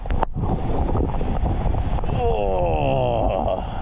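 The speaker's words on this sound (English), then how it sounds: "the wind right now is just ripping inland" Strong wind from Hurricane Elsa, ripping inland, roars and buffets the microphone in a constant low rumble, with a voice faintly heard toward the end.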